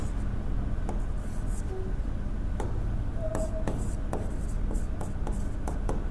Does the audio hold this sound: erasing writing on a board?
yes